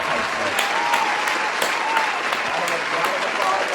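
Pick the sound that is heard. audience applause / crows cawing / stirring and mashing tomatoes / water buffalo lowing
audience applause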